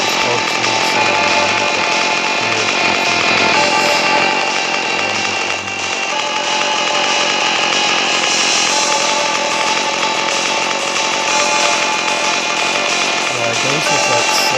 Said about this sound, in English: There's a chainsaw somewhere.